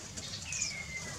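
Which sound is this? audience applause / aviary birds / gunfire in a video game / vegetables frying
aviary birds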